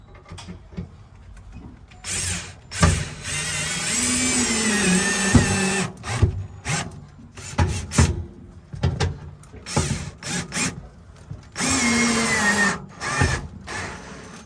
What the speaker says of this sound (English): So we'll go ahead and get these screws screwed in here.